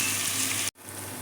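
Onions fry in a pan with a dense, steady sizzle that breaks off briefly and then resumes a little quieter.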